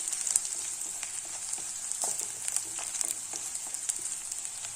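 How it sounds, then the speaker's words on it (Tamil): Onions fry in a pan for a gooseberry rice dish, giving a soft, steady sizzle with faint crackles and occasional light stirring sounds and no talking. "கொஞ்சம் வெங்காயம் வதங்கிச்சு பாருங்க."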